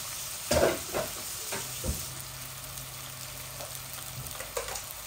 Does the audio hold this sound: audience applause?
no